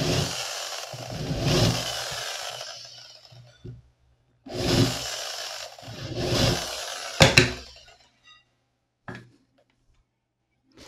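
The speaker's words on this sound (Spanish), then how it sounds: "Haré en la cabeza de la entrada acá una forma de avellanado para que la cabeza del tornillo quede oculta." A power tool countersinks a screw hole in insulation material with two long, loud bursts of whirring and grinding, then brief clicks and taps before going quiet.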